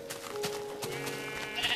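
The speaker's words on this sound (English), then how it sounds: "Why are there so many freaking sheep?" Sheep in the video game Minecraft bleat several times in quick succession, wavering calls that overlap one another over a quiet backdrop.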